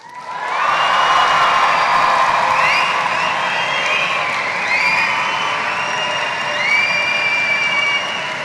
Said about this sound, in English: Graduates, stay quiet. Family and friends, cheer.